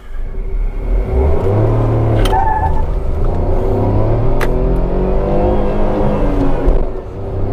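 A Tata Altroz 1.2L petrol car accelerates hard in first gear, its engine note climbing steadily and loud from inside the cabin, dipping briefly as the revs peak near the end.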